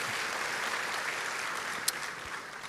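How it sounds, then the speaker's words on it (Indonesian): A church congregation gives an even, continuous round of applause after a sermon on resurrection power, one brief sharp click near the end. "berikan tepuk tangan kita untuk Tuhan kita"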